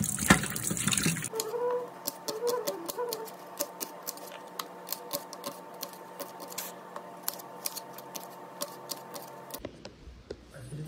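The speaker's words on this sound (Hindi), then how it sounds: "और अभी चिकन को धोते हैं।" Raw chicken is washed in a kitchen sink under a steady stream of tap water, a continuous close splashing rush with small ticks and clatters, preceded by a brief loud burst and ending abruptly.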